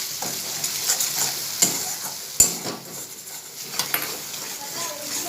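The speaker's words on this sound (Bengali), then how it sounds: "টক দইটা দিয়ে দেবো, দিয়ে আবার একটুখানি নাড়িয়ে নেব।" Egg curry being stirred in a pan after sour yogurt goes in, with a soft steady sizzle under repeated scraping strokes of a spoon and occasional sharp taps against the pan, close and clear.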